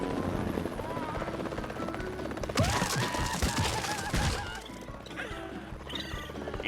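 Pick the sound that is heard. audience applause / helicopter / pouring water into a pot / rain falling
helicopter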